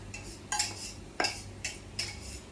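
A vegetarian mixture poured back into a saucepan, a few distinct metallic clinks and scrapes of a utensil against the pan, close and spaced out with no talk.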